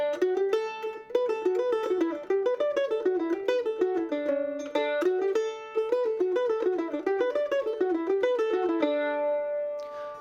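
A mandolin plays a reharmonized, improvised version of the first section of the fiddle tune Whiskey Before Breakfast. The quick picked notes come close and clear in a flowing melody, ending on a sustained chord, with no talking.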